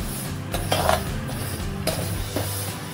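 Garden cress (halim) seeds are dry roasted in a pan for methi laddoos while a utensil stirs and scrapes against the metal, producing recurring rough scraping strokes and light clinks over a steady low background.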